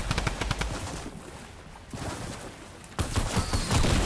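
Rapid automatic gunfire in a Fortnite fight, a fast rattling burst up front, a quieter lull with a lone crack, then another close, loud volley at the end.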